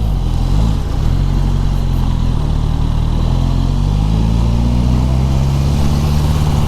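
A Suzuki Katana motorcycle with the K5 engine making a U-turn, its engine loud and close, a continuous rumble that dips briefly and then climbs steadily in pitch as the rider pulls away.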